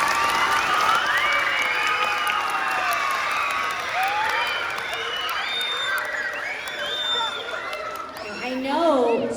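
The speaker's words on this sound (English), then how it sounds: "Let's give a round of applause for that." Elementary school children at a 100th birthday assembly cheer and clap, a dense crowd roar of shouts and whoops with applause underneath, loud and sustained, rising again at the end.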